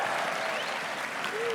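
Crowd applause at the 2022 LCS Summer Split finals, Cloud9 versus 100 Thieves, a dense, steady wash of clapping and cheering filling the whole moment, close and loud.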